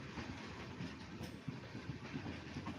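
A train pulls into Mudi railway station, a faint, distant rumble and rolling wheel noise spread evenly throughout, with no one speaking.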